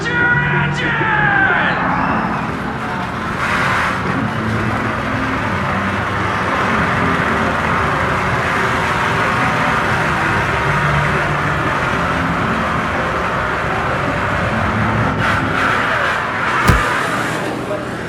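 A race car engine sound effect roars on the Intimidator 305 giga roller coaster at Kings Dominion, a steady loud drone lasting the whole ride with riders yelling over it and a sharp bang near the end.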